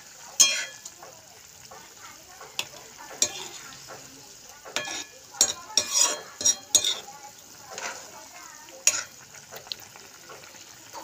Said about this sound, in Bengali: ফুটছে, দেখছেন তো, টকবক করে ফুটছে